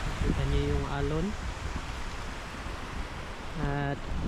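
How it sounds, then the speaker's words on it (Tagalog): Surf rolls in at a coastal plaza in Pinamungahan, Cebu, as the tide rises, a steady broadband wash of waves filling the background while a person talks over it. "kita niyo yung alon."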